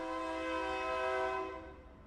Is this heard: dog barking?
no